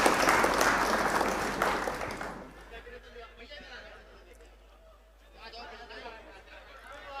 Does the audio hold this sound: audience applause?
yes